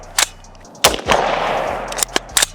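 Rifle fitted with a three-position forced reset trigger firing from a 30-round magazine: sharp close gunshots, a single shot then a short burst that thumps into a sustained roar, followed by several more separate cracks.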